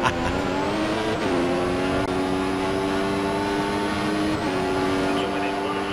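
A Ferrari Formula 1 car engine in the F1 2016 video game at Bahrain screams at a high steady pitch, with brief dips and climbs as it shifts gear, loud and continuous with no talk.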